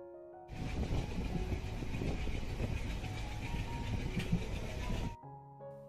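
A train rolls steadily along the railway, a continuous broad rumble and rattle of the carriages lasting several seconds before it cuts off.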